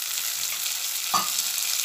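Ridge gourd with tomato and softened onion stirred in a frying pan, a steady close sizzle with one brief scrape of the spoon partway through.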